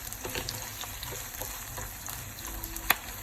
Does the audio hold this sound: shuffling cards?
no